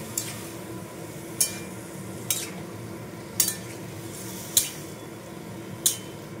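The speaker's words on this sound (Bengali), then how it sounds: "তো আমি এবার ঝিঙেগুলো দিয়ে দিচ্ছি। দিয়ে এবার এটা নাড়াতে থাকছে।" Ridge gourd being stirred in a pan with a little oil: a low, steady sizzle with a spatula tapping and scraping the pan about once a second, close and clear with no talk.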